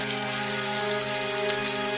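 Rain falling steadily over a village, a dense continuous hiss with a low tonal hum running underneath, even and unbroken throughout.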